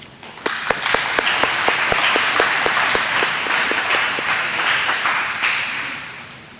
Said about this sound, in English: Please give your applause for all of these individuals for their participation in 4-H contests